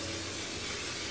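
Non-stick cooking spray hisses onto a baking tray for donuts in one continuous, close, loud burst, heard alone with no speech.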